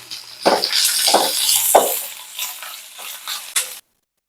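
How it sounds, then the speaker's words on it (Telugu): Onions tossed into a pan with green chillies and curry leaves, bursts of sizzling and stirring scrapes in several short surges, close and fairly loud, ending abruptly. "పచ్చిమిర్చి కొంచెం ఫ్రై అయిపోయింది, ఇప్పుడైతే ఆనియన్స్ వేసుకుంటున్నాను"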